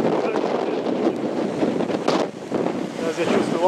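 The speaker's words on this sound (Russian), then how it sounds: "Ветер." Wind gusting against the microphone at the rocky coast by the Blue Window arch in Dwejra Bay, Gozo, Malta, a steady loud roar with surging gusts, waves faintly beneath and a voice briefly heard.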